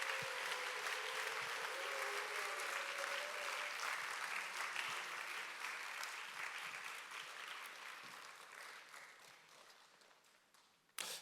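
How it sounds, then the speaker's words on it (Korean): A church youth congregation applauds in welcome of its staff, a loud, dense, sustained round of clapping that gradually thins and fades toward the end. "우리 박수로 환영해 주시면 감사하겠습니다"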